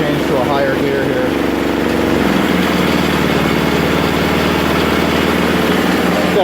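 A woodgas-powered engine runs at about 3,000 RPM, a loud, steady mechanical drone with a fast even pulse that shifts tone partway through, while someone talks over it.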